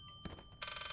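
A telephone bell ringing inside the Layers of Fear video game, a steady bright ring that starts partway through, clear and fairly close over a quiet background, with a brief knock just before it.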